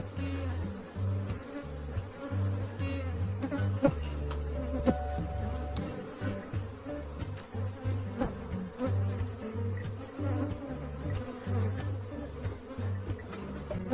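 Honey bees swarm around an opened hive during an inspection, with smoke puffed over the lid. Their dense, continuous buzzing runs close and steady the whole time, with no voices.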